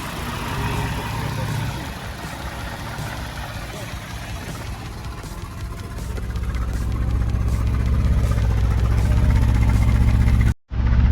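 A Mercedes-Benz W124 300CE coupe engine idles steadily with a faint uneven misfire, its low hum rising slightly partway through before cutting off briefly near the end, with people talking nearby.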